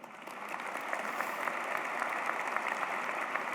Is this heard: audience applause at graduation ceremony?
yes